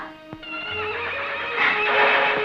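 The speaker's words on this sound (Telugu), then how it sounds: "గుర్రాలు తొందరపడుతున్నాయి" Horses whinny and neigh loudly and close by, one high call followed by another rising one, with a soft clatter of hooves underneath and no talk.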